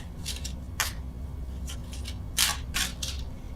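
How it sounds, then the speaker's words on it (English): Tarot cards shuffled by hand close up, a series of short papery riffles and slaps in irregular bursts with quiet pauses between, no talking. "apologies for the shuffling here"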